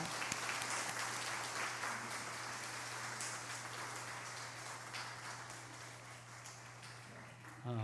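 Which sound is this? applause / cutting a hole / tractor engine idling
applause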